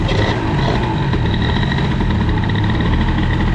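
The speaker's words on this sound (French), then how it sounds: "C'est un type de scooter." A scooter engine fitted with an Airsal XT 77 Nitro boosted kit idles steadily and loudly up close, a continuous buzzing drone with no voices.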